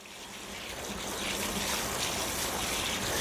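Water from a garden hose pours steadily onto soil around seedlings, a continuous soft hissing splash that builds slightly and holds even, close by and alone.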